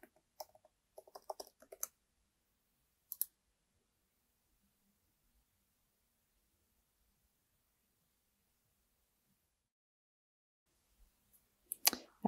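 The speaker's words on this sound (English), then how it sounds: "And I will type in my password to try to log in." Password typed on a computer keyboard, a short cluster of soft quick key clicks at the start, one more tap shortly after, then long quiet before a final few clicks at the end.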